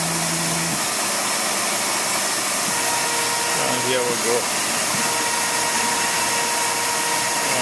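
A Tormach PCNC mill run manually drills a one-inch-deep hole with coolant flowing, giving a steady whirring, hissing machine drone with faint tonal shifts. Someone speaks briefly near the start.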